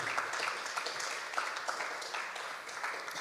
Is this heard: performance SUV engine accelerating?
no